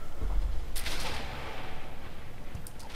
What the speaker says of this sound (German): Das nenne ich eine Kanone.